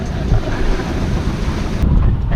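Strong wind buffets the microphone over steady wave and surf noise as a sailboat rides down the waves off Croatia, a loud continuous roar with no voices.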